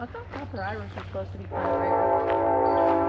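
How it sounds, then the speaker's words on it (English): Train horn at Mermet Lake's Flatwoods Trail, a loud sustained blast from a passing train starting halfway through and holding steady, after a person speaks outdoors. "That was the train."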